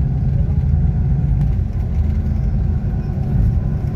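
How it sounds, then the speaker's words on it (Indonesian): Steady, loud low rumble of a Handoyo bus engine idling or running nearby, with a dense, even drone and no talking. "Ini bus Handoyo."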